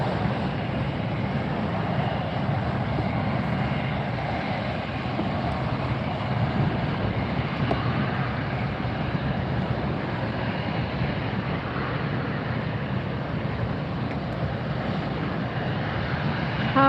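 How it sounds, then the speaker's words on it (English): A Southwest airliner taxis into position for takeoff at Fort Lauderdale airport, its jet engines giving a steady, moderately distant roar that holds even throughout. "Southwest now moving into position for takeoff."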